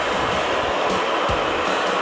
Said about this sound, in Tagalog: Dalawang robot yan, naglilinis.